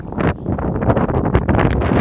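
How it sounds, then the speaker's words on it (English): Heavy wind gusts blast straight into the microphone, a loud continuous rumbling roar that surges and dips over the whole stretch. "It's just so freaking cold and windy."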